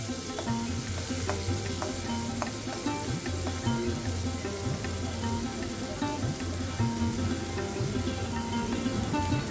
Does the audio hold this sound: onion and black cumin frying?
yes